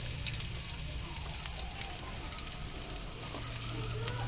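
Onions sautéing in a pan for semiya upma, a steady close sizzle with occasional stirring scrapes and a low background hum throughout, no speech.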